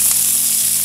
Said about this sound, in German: Dann haben wir jetzt Räuchertofu gewürfelt und die Zwiebeln in die Pfanne.